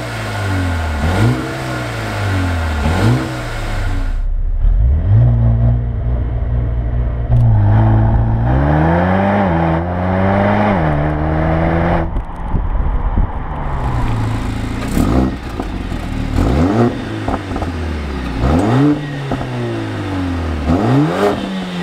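A 2021 Mercedes-Benz GLB 35 AMG 4MATIC accelerates hard in Sport Plus mode, the engine loud and close as it revs up through several gear changes with rising and dropping pitch and no talk.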